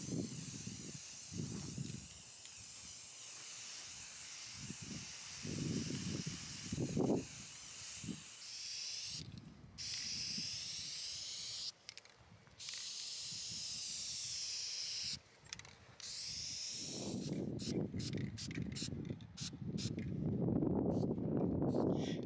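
Spray can spraying finish onto an old 1965 Ibanez Jamboree guitar outdoors, a series of short and longer hissing bursts separated by pauses, moderately close and fairly loud.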